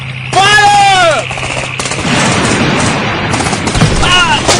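Gunfire rattles in dense bursts during a war-drama battle scene with a tank, while voices shout over the noise.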